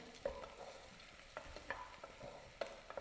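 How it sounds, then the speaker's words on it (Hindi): Whole star anise, bay leaf, cumin seeds and black pepper sautéing in a pan, giving soft, close sizzling and stirring scrapes with a few sharper clinks and pops, no voices. "इसको हम 1 से 2 मिनट सौते कर लेंगे।"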